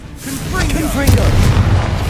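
A Confringo blasting curse goes off in Hogwarts Legacy, a loud booming burst with a rumbling tail mixed into dense combat noise, with brief vocal sounds over it.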